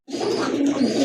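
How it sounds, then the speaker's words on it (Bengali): A Giribaz pigeon from a pair for sale gives a close, clear coo that starts abruptly and holds for about a second. "যারা গিরিবাজ পালন করেন তাদের জন্য খুবই ভালো মানের এক জোড়া কবুতর দেখার মতো।"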